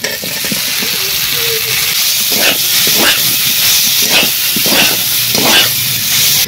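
Fried potato and papaya added to a sizzling pan of snails in spiced masala, a loud continuous hiss with repeated stirring scrapes and rustles in a loose rhythm, with no talking.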